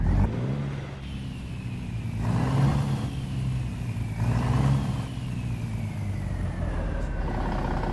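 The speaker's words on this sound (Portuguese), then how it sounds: "Olha o som do motor." A heavy International Transtar 4070A truck engine in Euro Truck Simulator 2 rumbles steadily, its revs rising and falling in slow surges, loud and close, with no voices.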